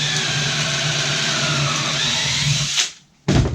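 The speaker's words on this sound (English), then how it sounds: "I'll drill a couple of holes" Drill boring pocket holes with a Kreg pocket-screw jig and collared bit in woodworking, a close, steady whining motor run for nearly three seconds, a brief stop, then a short restart.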